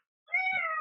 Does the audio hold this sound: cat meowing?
yes